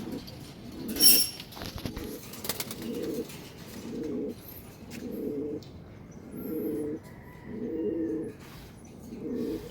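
Pigeons cooing in a loft in a steady repeating rhythm, low soft coos roughly every second, with a brief flutter and faint chirps early on.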